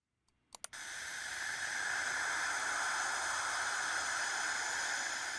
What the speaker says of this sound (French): Ce sifflement est produit par des particules chargées dans l'environnement.